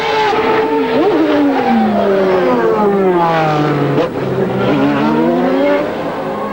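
A Formula One race car on a qualifying lap at the 1991 Australian Grand Prix screams loud and close, its engine revving up and down through hard gear changes with no talk over it.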